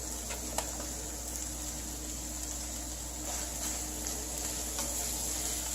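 Scrambled eggs with vegetables and cheese cook in a pan with a soft, steady sizzle, broken by a few faint clicks and ticks from the utensil against the pan.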